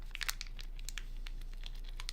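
Sealed plastic packaging being torn and worked at with teeth, giving a run of close crinkling and tearing crackles in irregular bursts over a faint low hum.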